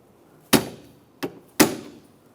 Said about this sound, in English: To get this over, I'm going to use a socket and a hammer.